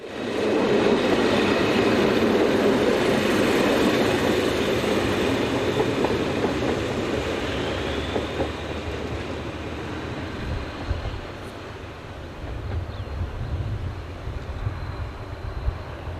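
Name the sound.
train running on railway line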